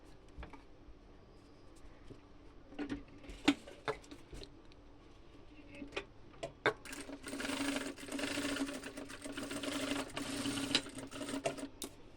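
A sewing machine stitches the shoulder seam of a maxi dress in short, faint bursts of rapid ticking, building to a longer continuous run toward the end.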